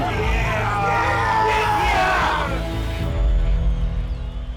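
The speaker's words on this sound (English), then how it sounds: "The crowd yelling in your ears, shouting at you, cheering for you, booing you." A crowd yells and whoops at an MMA fight event, with raised, strained voices overlapping loudly before the shouting thins out and fades toward the end.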